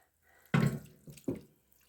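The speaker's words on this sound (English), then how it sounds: "Again, I think I'll add a little bit more water to that." Water is poured or splashed into a dyeing container of yarn in short bursts, one louder splash followed by a smaller one, close and fairly quiet, with no talking.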